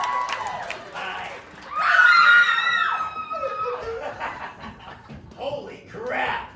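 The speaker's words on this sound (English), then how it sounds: "The sound of a scream is music to me." A loud, high scream bursts out around two seconds in with sustained harmonic wails, set among laughter, chuckles and excited crowd voices before and after.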